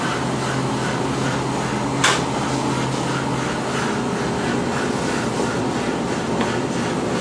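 An espresso machine runs a shot, producing a loud, steady pump hum and hiss that holds evenly throughout, with one brief sharp burst near the start and no talk.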